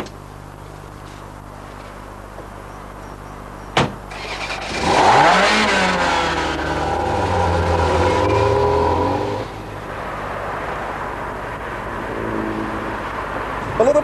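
A Ferrari sports car engine revs and accelerates on the road, a loud rising growl after a sharp thump, with the pitch climbing through the gears before settling into a steady cruising hum.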